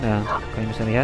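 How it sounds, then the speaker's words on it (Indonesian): Dog barks and yips from an artifact in the ARK Mobile video game sound close and loud, mixed with someone talking over them. "Ada suara gonggongan."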